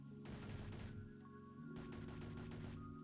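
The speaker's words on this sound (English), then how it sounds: "And also different weapon sounds as you hear them shoot." Rapid automatic weapon fire from new weapons in Space Engineers, two sustained bursts of rattling shots separated by a brief pause, loud and close over a low mechanical hum.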